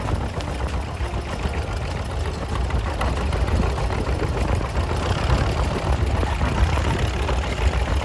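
A tractor engine idles steadily at a plowing contest in Arlington, South Dakota, with a low, rumbling chug and a faint knocking rhythm, unchanging and fairly close.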